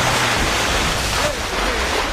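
Ocean water and waves in a PlayStation 4 whale-hunting video game, a continuous loud wash of surf and rushing water with no pauses.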